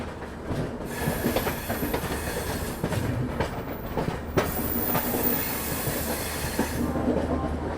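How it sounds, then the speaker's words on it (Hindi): A Rajdhani Express generator car runs alongside a moving train, its engine drone blending with rolling wheels, rhythmic clickety-clack and occasional squeals and rattles, loud and continuous. "ये जनरेटर कार की आवाज़"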